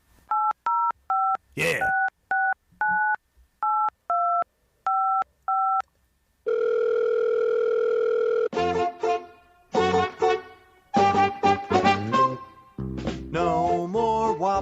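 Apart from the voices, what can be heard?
phone fun theme with telephone dialing and dial tone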